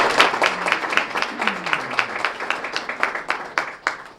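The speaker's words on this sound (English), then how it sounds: "please, let's give all of our great gift sponsors a round of applause" Audience applause for gift sponsors at a Student of the Month ceremony, scattered claps that start strong and thin out into sparser, individual hand claps, with a faint voice underneath.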